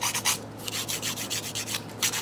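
A nail file rasps back and forth across a fingernail, rounding off the bitten nail's shape in a series of quick, close, rhythmic strokes with no talking.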